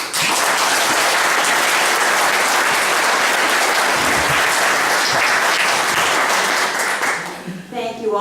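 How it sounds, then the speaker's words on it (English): Audience applause at a Q&A session in Hague, New York fills the room with loud, steady clapping for about seven seconds, then dies away as a voice starts to speak. "Thank you all for your applause"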